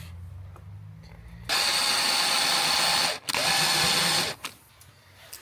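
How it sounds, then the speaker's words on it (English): A power drill enlarges a hole, whirring loudly and steadily for a few seconds, briefly cutting out once, then winds down and stops, leaving quiet background noise. "I have to use a drill bit to enlarge it."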